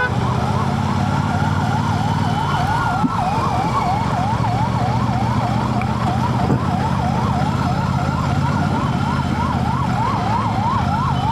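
A loud ambulance siren wails continuously in a rapid rising-and-falling pattern over steady traffic rumble near Vijay Nagar square in Indore, India, very close throughout.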